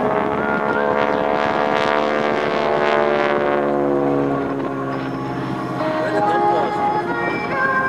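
A T-6 Texan with its Pratt & Whitney R1340 radial engine flies aerobatic loops and rolls at an airshow, a loud, steady droning roar whose pitch slowly shifts as the aircraft passes, with no pauses.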